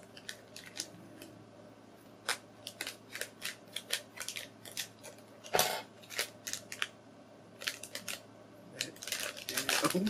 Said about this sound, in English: That's why we got scissors on hand.